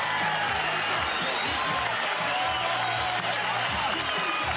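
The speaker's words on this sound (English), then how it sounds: "The last moment, and the crowd rise to him." A boxing arena crowd at a heavyweight title fight rises with roaring cheers and applause, a loud dense wash of voices and clapping filling the hall without pause.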